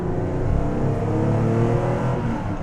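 A TVR Sagaris with an inline-six engine pulls hard under acceleration, its loud, throaty drone sustained and slightly rising, close up with no talking.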